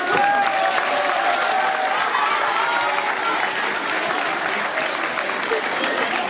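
Theatre audience applauding in a steady, dense wash of clapping that holds loud and even throughout, with faint crowd noise mixed in.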